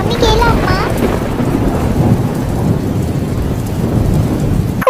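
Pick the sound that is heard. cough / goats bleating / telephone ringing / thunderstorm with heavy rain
thunderstorm with heavy rain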